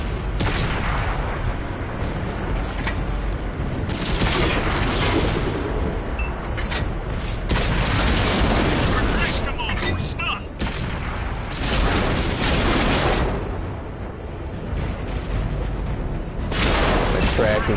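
Tank cannon fire and explosions in World of Tanks, a dense run of loud booms and blasts throughout, with a voice talking over the battle.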